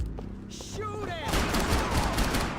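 Rapid gunfire in the shooter Max Payne 3, a dense, loud burst of overlapping shots that swells after a short lead-in with speech-like game chatter and whooshing effects, then keeps rattling continuously to the end.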